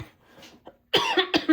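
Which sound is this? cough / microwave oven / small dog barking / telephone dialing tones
cough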